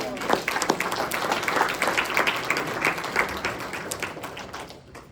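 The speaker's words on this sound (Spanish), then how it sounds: "Un aplauso al Rey." A church congregation at Iglesia Oasis in Hesperia, California, breaks into lively applause, a thick run of claps that swells and then fades near the end, with some voices underneath.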